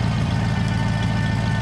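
A Ford F150 engine fitted with a high performance carburetor runs at a steady idle, a loud, continuous low rumble with an even hum that holds unchanged throughout, with no voices.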